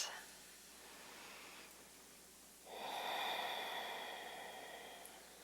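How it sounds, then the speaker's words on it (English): Easy deep breathing held in a standing yoga pose, a faint breath followed by a fuller, airy exhale of two or three seconds, close and quiet over low room hiss, with no talk. "Two more easy standing pose breaths"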